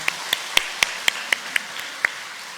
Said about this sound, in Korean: 하나님께 박수를 한번 돌리겠습니다.